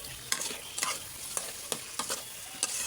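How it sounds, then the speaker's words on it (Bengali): Fish heads frying with spices in a pan, a continuous sizzle broken by about eight quick scraping stirs at an irregular rhythm, close by, with no talking. "মাছের মাথাগুলো দিয়ে দেওয়া হচ্ছে, এখন এটাকে ভালো করে কষিয়ে নেওয়া হবে।"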